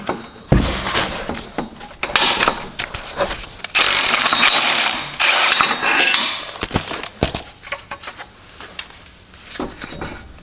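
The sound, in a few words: wrench turning bolts on BMW E90 front driveshaft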